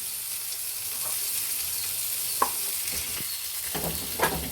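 Spiced masala for fish curry, with chili powder, coriander powder and salt, is stirred in a hot pan; a soft continuous sizzle runs throughout, broken by a few scraping clinks of the spoon against the pan.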